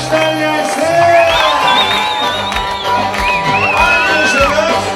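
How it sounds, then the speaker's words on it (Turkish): A crowd cheers loudly at a Turkish circumcision ceremony, with whoops, shouts and rising voices filling the space in one continuous, close roar. "Aynı alkışlar gelsin."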